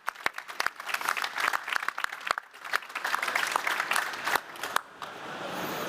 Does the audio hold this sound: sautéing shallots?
no